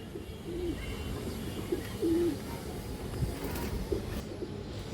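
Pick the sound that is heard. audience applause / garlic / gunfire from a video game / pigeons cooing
pigeons cooing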